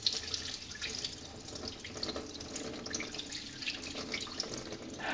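Soaked rice being washed in water for an Andhra sankranti recipe, a close continuous splashing and trickling with soft sloshes throughout, moderately quiet and without talk.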